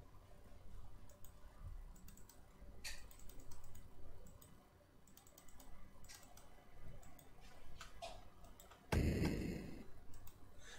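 Computer mouse clicks sound in a quiet room during play of the 1992 Amiga game Black Crypt, several soft irregular taps followed by a louder burst near the end.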